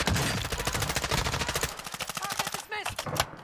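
Rapid automatic gunfire bursts out in Modern Warfare 2 DMZ, a dense fast rattle of shots that stops briefly, then a few more shots and game effects follow.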